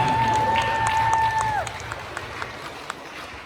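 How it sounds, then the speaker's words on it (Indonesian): Audience at a junior high school quiz competition final, applauding in a moderate burst over a fading held tone, then thinning to a few scattered claps. "Beri tepuk tangan semuanya."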